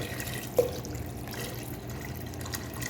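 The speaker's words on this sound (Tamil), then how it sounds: "இன்னொரு ஒரு கிளாஸ் நான் ஊற்றிடுறேன்" Water poured from a glass into a pot of Tamil Nadu kushka biryani; a soft, steady liquid trickle with a faint splash near the start, fairly quiet and without speech.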